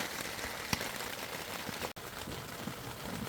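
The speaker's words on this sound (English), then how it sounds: "enjoying the lights, the fan, the sound of the rain" Rain falling on a Mission Cattle hot tent, a canvas teepee, making a steady, dense hiss of drops with a few louder individual taps close by.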